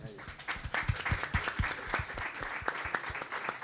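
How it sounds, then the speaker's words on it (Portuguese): Audience applause for Arnaldo Trindade at a book talk, with dense, steady clapping and sharp individual claps close by, sustained through the whole stretch at moderate loudness. "uma salva de palmas para ele"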